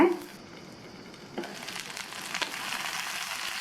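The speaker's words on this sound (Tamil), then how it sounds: "கத்திரிக்காய் வதங்கிட்டு இருக்கும்போது அப்பப்போ திறந்து பார்த்து கிண்டி விட்டு மறுபடியும் மூடி வச்சுருங்க" Diced brinjal sautés in oil in a covered pan, with a soft, steady sizzle and crackle that rises after a lid clatter early on, faint and close throughout.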